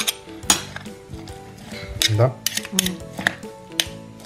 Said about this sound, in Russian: Давай помешай, будешь двумя ложками этими тыкать.